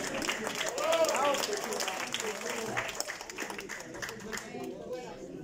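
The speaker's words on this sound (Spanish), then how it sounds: "Un aplauso, por favor." An audience claps in applause at a club event, a burst of clapping that swells early and then thins out, mixed with crowd chatter and voices.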